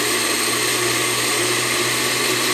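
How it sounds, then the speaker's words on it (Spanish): A blender motor whirs at a steady, loud pitch, running continuously without pause. "La licuadora no tiene mucha fuerza"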